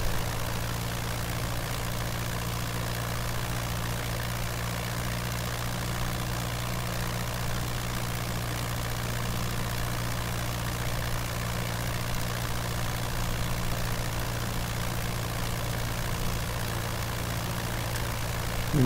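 A Curtiss JN-4 Jenny biplane engine idling with no throttle in Microsoft Flight Simulator, a steady low droning hum with a constant tone that holds unchanged for the full length, with no voices over it.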